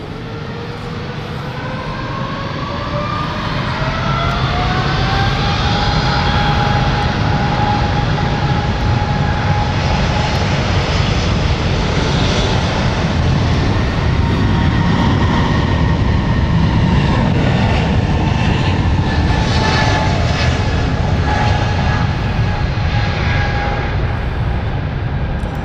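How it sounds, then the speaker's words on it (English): An airliner's engines spool up and roar through the takeoff roll at London City Airport, starting quieter and swelling to a loud, sustained drone with rising and falling whining tones, close and continuous with no talk over it. "Would that engine sound a bit rough?"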